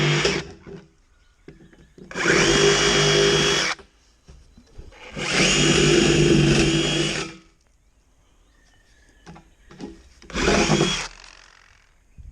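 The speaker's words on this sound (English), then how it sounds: "Just drill a bunch of holes in it." A power drill bores holes into material for a sunken catfish shelter, three loud bursts of whirring with quiet gaps between them and no talk.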